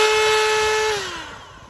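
Cordless power tool for trimming horse hooves running at 2,500 RPM, a loud steady high whine that then drops in pitch and fades as the motor winds down.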